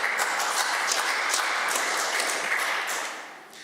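Legislators in the Alberta assembly chamber applaud in a dense, steady wash of clapping that tapers off toward the end.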